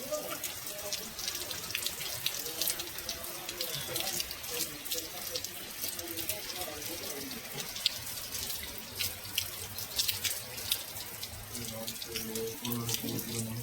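Monsoon rain falls steadily with a tap-like trickle and splashing of running water nearby, while a person talks over it at moderate volume.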